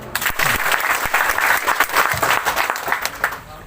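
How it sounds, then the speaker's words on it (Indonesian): A crowd at a COVID-19 vaccination awareness event in West Sumba applauds close by, with individual claps standing out sharply within a lively, uneven patter that rises and dips. "Tepuk tangan dong"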